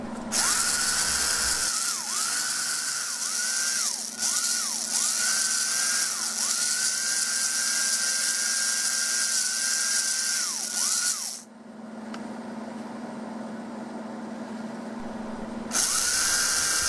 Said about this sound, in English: place the car on a piece of test track. The drivetrain may feel a little snug at first, but should work its way in.